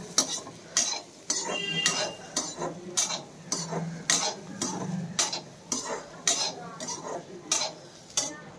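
Peas roasting in mustard oil with salt in a pan are stirred with a utensil, giving a steady run of close scraping and clinking strokes in an irregular rhythm over a soft sizzle, with no talk.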